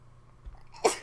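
A single sharp human sneeze near the end, loud and close, after a brief quiet intake of breath.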